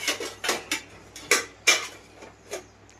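Steel plates clatter and clink as they are picked up and handled in a home kitchen, about half a dozen sharp metallic knocks at irregular intervals, fairly close, with quiet gaps between and no talking.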